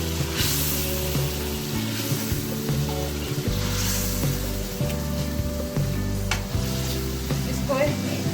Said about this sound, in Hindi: अब हम इसमें चिकन मैरिनेट किया हुआ ऐड करेंगे।